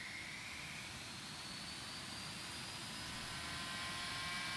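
A C-101 Aviojet jet engine at full power in a flight simulator game, a steady, broad roar with a thin whine above it that swells slightly toward the end, continuous and without talk.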